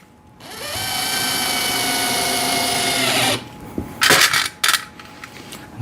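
A power drill drives screws into a VEVOR 7-tier rotating shoe rack tower: one sustained whirring run of about three seconds that winds down, followed by a few sharp clicks and clanks of hardware.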